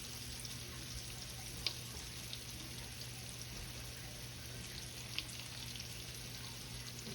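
Old-school salmon cakes sear in a pan with a faint, steady sizzle that runs throughout, broken by two sharp little clicks, and no voices.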